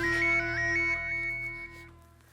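An electronic ringtone plays a bright, warbling melodic phrase over a steady tone, fairly close and clear, with no talking.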